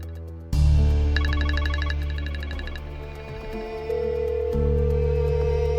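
A mobile phone rings during an unanswered call, a repeating electronic ringtone pattern sounding over dramatic background music, fairly clear and steady, with no one speaking.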